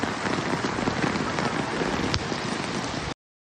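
Torrential rain pounds a flooding street in Maipú, Santiago, a dense, loud, continuous roar of drops on hard surfaces that stops abruptly near the end.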